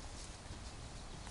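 An off-track Thoroughbred mare walks in hand, her hooves making soft, steady steps over a constant broadband background with no clear gaps.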